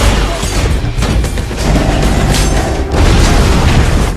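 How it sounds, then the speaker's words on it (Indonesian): Bombs going off in an action film fight scene, a loud, dense roar of booming blasts and crashing debris that stays heavy throughout, with no speech. "Ketiganya kemudian mulai menembaki para musuh, menusuk dan meledakkan beberapa bom."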